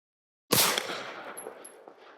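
A single sharp handgun shot fired during a shooting drill, loud and close, followed by a fading reverberant tail with no talk.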